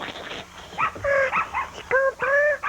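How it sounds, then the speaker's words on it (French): A mechanical toy dog that wags its tail yaps in a run of short, high, whiny yips and bow-wows, close and fairly loud, with no talking. "Ce chien-là n'est pas vivant, mais il remue la queue et il jappe."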